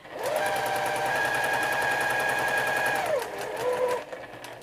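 A home sewing machine stitches a seam on a reusable fabric gift bag, running as a steady, close, rapid whirring drone for about three seconds, then slowing slightly as it crosses the thicker seam before stopping.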